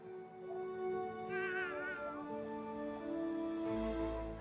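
A cat meows in the South Park: The Fractured But Whole video game, a single drawn-out wavering meow rising and falling, fairly faint over soft game background tones.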